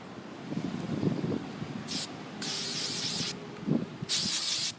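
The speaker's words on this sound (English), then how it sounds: "You just kind of want to spritz it across because it will leave just giant clumps of the texture sand right there." Texture sand spray paint hisses from a can in three short bursts, close and fairly loud, over quieter handling noise.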